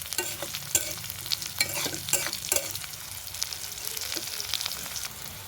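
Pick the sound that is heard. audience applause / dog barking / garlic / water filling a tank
garlic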